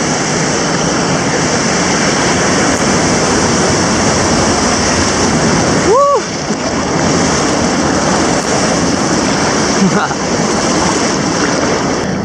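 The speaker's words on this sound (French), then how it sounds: "on a un petit barrage avec une glissière au milieu exprès pour les canoës kayak" A kayak runs down the chute of a small weir on the Huisne river in the Sarthe, with loud, steady rushing water throughout and a brief knock around the middle of the run.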